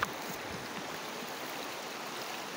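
Knee-deep water being waded through, a steady rushing, sloshing wash of water that stays close and continuous throughout, with a few soft splashes near the start.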